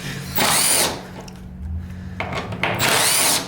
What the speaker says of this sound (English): Go ahead and remove your 6 bolts.